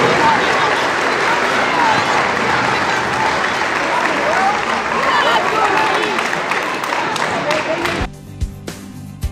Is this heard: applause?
yes